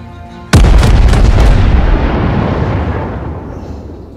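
Heavy naval guns of the battleship Fuso fire in a video game: one sudden, loud, deep boom that rolls on and slowly fades over several seconds, with no talk.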